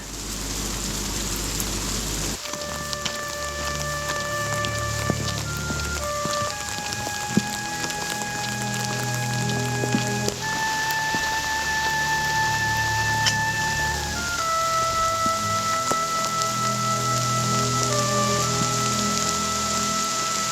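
Rain falls steadily during a solo tent hike in changeable May weather, a continuous pattering hiss with sustained tonal notes layered over it and no speech.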